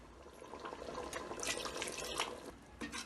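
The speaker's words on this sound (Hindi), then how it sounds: "हम पानी और डालेंगे इसमें।" Water poured into a cooking pot of arvi gosht (taro and meat curry), a steady splashing, gurgling stream close by with brief bursts, no talking.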